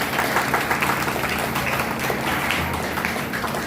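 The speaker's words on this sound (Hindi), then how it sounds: "एक बार दोबारा से एक बार ताली करेंगे सर मैम के लिए" A school audience at an Independence Day celebration claps for the guests, a steady wash of applause with faint background murmur.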